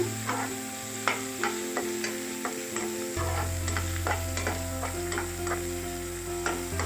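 Cabbage Manchurian vegetables with onion frying in a pan, a steady sizzle broken by repeated scraping stir strokes and a deeper frying hum joining midway, with no talking.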